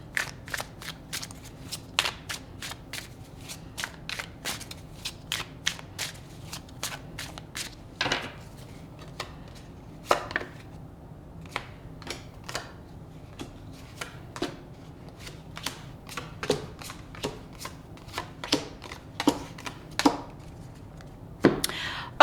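Tarot cards being shuffled, a steady run of crisp riffling snaps and flutters with occasional louder slaps, close and alone with no talk.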